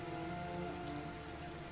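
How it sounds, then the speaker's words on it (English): Steady heavy rain patters continuously on a surface, a dense even wash of drops at moderate level with no voices over it. "Heavy rain."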